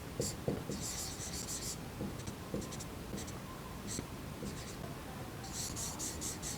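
A pen writing on paper during a maths lesson, with short bursts of scratchy strokes and pauses, close and fairly soft, with low background murmur but no clear talk.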